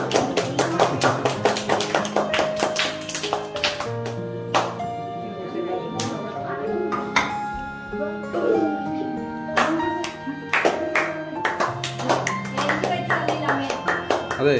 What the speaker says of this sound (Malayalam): എല്ലാരും ക്ലാപ്പ് ചെയ്യടാ